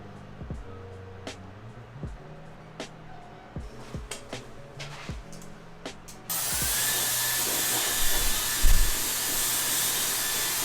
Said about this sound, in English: So what this is a pomade primer, thickening spray, and it's got a weightless hold.